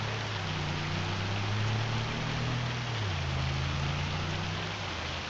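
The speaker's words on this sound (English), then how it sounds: "It might be the first time I've played this game where it rained this much." Heavy rain pours down in a farming video game, a dense, even hiss throughout with a low humming tone drifting underneath.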